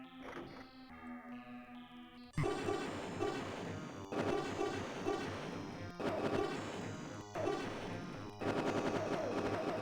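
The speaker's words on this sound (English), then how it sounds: "I'm going to launch all the missiles that I can all at once." Missile launches in the DOS space shooter Galactix: after a quieter opening of electronic tones, a loud burst of blasts begins and continues in repeated dense volleys, alone without talk.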